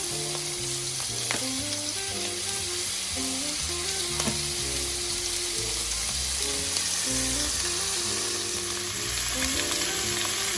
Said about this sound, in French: quand l'huile est bien chaude, je fais revenir mes coquilles très rapidement, 1 minute de chaque côté